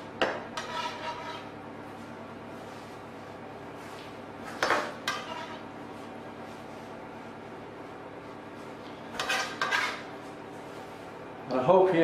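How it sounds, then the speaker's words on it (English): A palette knife scrapes and taps on dishes while a salmon and broccoli bake is divided between two dishes, producing a few clinks over a steady background hum. "I'll just use a palette knife to divide this between the two dishes."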